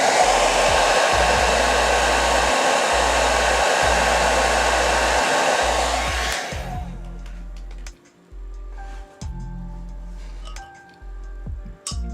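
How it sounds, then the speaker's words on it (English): A blow dryer runs loud and steady for about six seconds while drying gouache and watercolor paint on a flower painting, then cuts off, leaving faint clicks and small handling noises. "I will use the blow dryer. It will be loud for a second."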